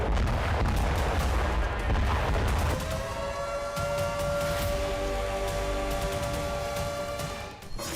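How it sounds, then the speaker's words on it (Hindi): Massive explosion at the Dnipro hydroelectric power plant in the Zaporizhzhia region, a heavy booming blast that rolls into a long echoing rumble, with a steady ringing tone emerging partway through as the noise lingers. "धमाका इतना जबरदस्त था जिसकी गूंज कई किलोमीटर दूर तक सुनाई दी"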